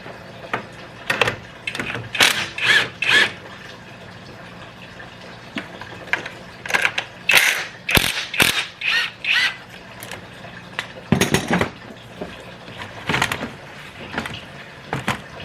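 Ratchet with an 11 mm socket working on a charge air cooler pipe of a 2005 Ford F350, giving repeated bursts of quick clicking strokes with brief pauses between them, close and fairly clear.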